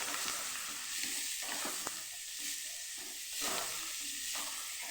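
Capsicum, cabbage, carrot and tindora sambharo stirred in a hot pan, a steady close sizzle with repeated scraping sweeps of the spoon coming in waves, no voices.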